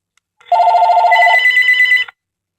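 A Straight Talk home phone rings loud and close in two bursts: a low electronic warble, then a higher trilling tone, with no one talking.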